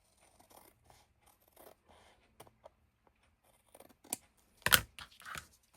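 Scissors snip through printed paper card during papercraft work on gift card holders, a few quiet scattered cuts building to one sharp close snip and a short rustle, alone with no talk.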